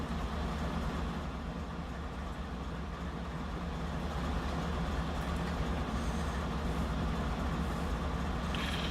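A Norfolk Southern ES44AC locomotive train passing on the coal district, a steady loud rumble and roar of the engine and rolling cars sustained throughout, close and unbroken with no voices.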